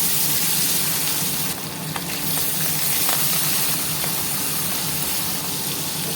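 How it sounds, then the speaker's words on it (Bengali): Bhola fish, rubbed with salt and turmeric, frying in hot oil: a steady, loud, close sizzle that fills the whole stretch, with a few brief crackles and pops and no voices. "তেলটা গরম হয়ে গেছে একটা একটা মাছ ছেড়ে দেবো"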